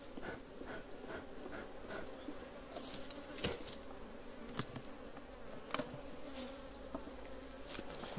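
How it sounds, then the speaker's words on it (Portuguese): A growing swarm of honeybees in an apiary sets up a soft, continuous buzzing hum. Individual bees zip past the microphone now and then, and no voices are heard. "Enxame em crescimento."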